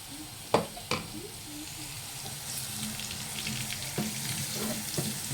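Liquid bubbles and simmers in a pot with a steady, soft frying-like hiss, plus a couple of louder knocks near the start and faint clinks later.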